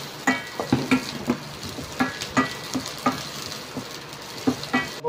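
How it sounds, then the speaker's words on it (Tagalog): Garlic and onion sautéing in a pan for beef broccoli, a soft sizzle broken by a dozen or so sharp, irregular clinks and scrapes of a utensil against the pan, up close with no speech. "Ngayon, mga tropa, lalagay ko natin sibuyas."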